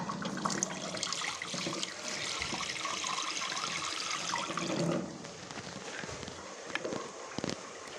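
Water is poured into a cooking pot of turnips and spinach, a splashing, running stream for about five seconds before it quiets to softer trickles and a few light knocks. No one speaks.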